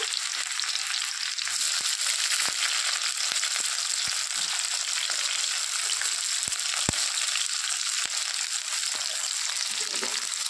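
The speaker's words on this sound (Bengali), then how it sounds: "তো তেল গরম হয়ে গেছে, তেলের মধ্যে এখন আমি দিয়ে দেব কেটে রাখা পেঁয়াজ রসুন" Chopped onion and garlic frying in hot mustard oil, a steady, loud, continuous sizzle close by, broken by faint stirring clicks, with no voices.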